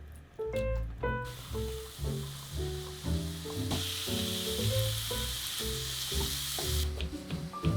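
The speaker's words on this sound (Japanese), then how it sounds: "フライパンで炒めます" Stir-frying in a frying pan, a steady bright sizzle with a spatula scraping and clacking against the pan, under faint background music.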